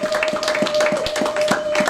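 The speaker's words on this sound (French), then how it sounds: "Applaudissons le Seigneur." A congregation at a church family convention claps in a steady rhythm to applaud the Lord, sharp hand strikes repeating every third of a second over a constant held tone and room murmur.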